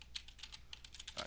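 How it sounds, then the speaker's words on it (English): Quick run of keystrokes on a computer keyboard entering a web address into a spreadsheet find-and-replace box, close and crisp, several taps in rapid irregular succession. "And I'll just type in the find as the home page."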